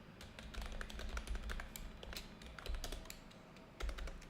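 Steady, quick typing on a computer keyboard while coding a React to-do app, irregular close clicks and taps running throughout, quiet and free of voices.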